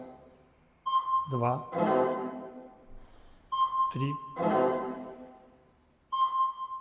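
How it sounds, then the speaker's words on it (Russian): A SIVER DATA T surveying device gives three short, evenly spaced electronic beeps as it records a point, each tone overlapping a nearby man's speech. "Пикаем 4 раза."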